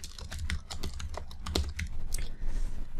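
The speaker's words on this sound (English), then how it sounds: "So you'll type your actual question over here." Rapid keystrokes on a computer keyboard as a question is typed into an online form, steady close clatter of uneven clicks throughout with no talking.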